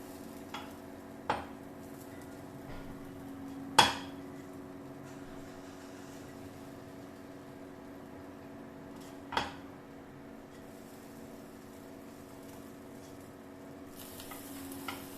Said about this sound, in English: I'm just going to turn the side now. So I'm just flipping them over.